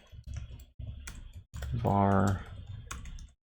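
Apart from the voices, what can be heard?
typing on a computer keyboard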